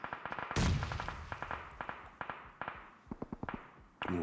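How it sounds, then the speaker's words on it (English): Gunfire in the PUBG Mobile battle royale game: a rapid series of sharp cracks and pops, with one heavier blast, sounding distant to mid-range in a busy match mix. "Ooh, a couple of pot shots."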